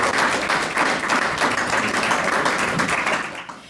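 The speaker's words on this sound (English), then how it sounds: "I'd like you to help me thank our panelists as well with applause" Audience applause for panelists at a Q&A session on immigration, a brief dense burst of many hands that fades out near the end.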